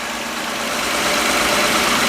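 A carbureted JZ engine fitted in a Mustang idles close by, giving a steady, dense rumble that swells slightly over a couple of seconds with no voices.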